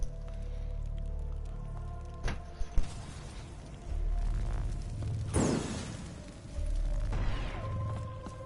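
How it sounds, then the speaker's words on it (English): An arrow shot in Call of Duty Black Ops 3 Zombies sets off explosions among the game sounds. Two sharp bursts are followed by a louder sweeping blast, all over a steady low rumble, with no talking. "as soon as I let go, I instantly heard an explosion"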